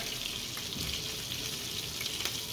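Garlic fries in a pan on an electric stove, making a steady, close hiss and crackle that runs unbroken throughout with no voices.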